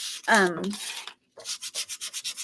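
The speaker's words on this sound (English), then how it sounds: "So I'm just sanding down these sign stands." Wooden sign stands being sanded by hand, with strokes that start slow and then settle into a quick, even back-and-forth rhythm, close up.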